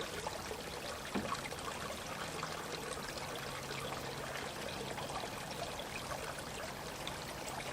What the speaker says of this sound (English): The water has abandoned going around, and now it's all coming straight through